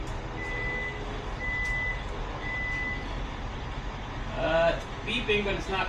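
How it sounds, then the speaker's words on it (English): A Genesis car emits a series of electronic beeps as a powered cover fails to close, high repeated tones over steady low background noise, with a louder burst near the end. "It's beeping, but it's not closing."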